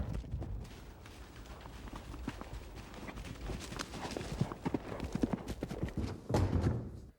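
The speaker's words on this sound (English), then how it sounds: "Possessed of a fleeter horse and knowledge of a shorter route, Jack Jewett went for the ride of his life" A horse gallops hard along a road, hoofbeats drumming in a fast, steady clip-clop, loud and close and building toward the end, with a brief whinny-like sound.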